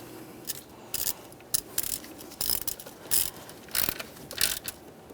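A ratchet loosening a valve cover bolt on a 1998-2011 Ford Ranger 2.3L four-cylinder, giving a series of short, quiet clicking bursts in an uneven rhythm, close up and alone.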